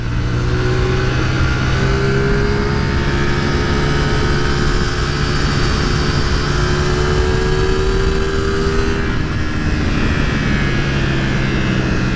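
A CFMoto 450SS motorcycle engine revs with a loud, steady roar that holds on continuously, with a slight rise in pitch partway through and no talking.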